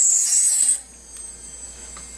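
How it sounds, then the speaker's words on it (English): A tube cutter makes a short, bright, high-pitched rasping cut through thin hypodermic tubing, lasting under a second before dropping to near silence. "then being sure to line up right on your mark, you'll make your final cut."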